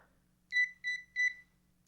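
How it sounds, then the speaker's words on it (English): A ZIIP skincare device syncing with its phone app gives three short, clear electronic beeps in a quick even sequence, close and isolated against near silence. "turn on your zip, and that beep tells you"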